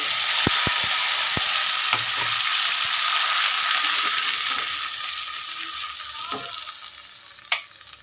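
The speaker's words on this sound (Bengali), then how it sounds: "এবারে যে মশলাটা করেছি আমি দিয়ে দেব" Ground spice paste hits onions fried in oil for a bottle gourd and soybean curry in a small kitchen. A loud, continuous sizzle is broken early by several quick utensil clicks, then settles slightly quieter, with no voices.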